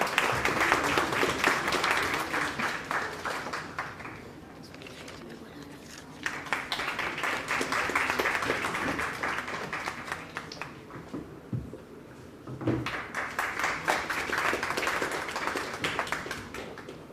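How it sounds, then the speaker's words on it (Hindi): Vigorous audience applause at a talk on the Ramcharitmanas honoring a professor, loud dense clapping that swells in waves, dips briefly, then surges again, with voices in the hall between bursts. "एक बार जोरदार तालियां हो जाएं।"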